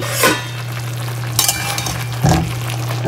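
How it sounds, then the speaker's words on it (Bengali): Chicken curry bubbles in a pot on the stove, giving a steady low hum with a few brief, sharper bursts of bubbling or stirring. "চিকেন এদিকে চাপিয়েছি, চিকেন ফুটছে"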